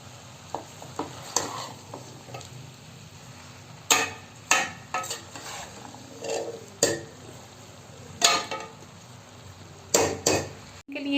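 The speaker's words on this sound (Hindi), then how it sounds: "अच्छे से इसे मिक्स कर दीजिए।" A spoon scrapes and knocks in a pan of mixed vegetable sabzi, giving irregular stirring clatters over a soft, low cooking hiss, close and fairly quiet.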